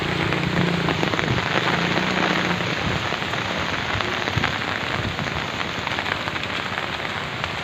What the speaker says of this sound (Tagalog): Yan, ganun kalakas ang ulan dito guys,